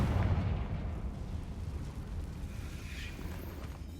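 A Confringo fire spell explodes in the video game Hogwarts Legacy, a deep rolling boom that rumbles and fades over several seconds, moderately loud, with no voices.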